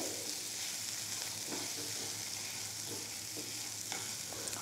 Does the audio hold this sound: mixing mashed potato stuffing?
yes